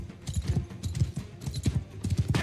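Horse hooves clip-clop in a rapid, uneven rhythm in a medieval combat video game, close and fairly quiet, as a rider moves to bump an enemy.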